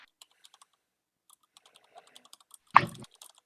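Sparse, light computer keyboard keystrokes tap irregularly in a quiet room, broken by one louder thump partway through, with no talking.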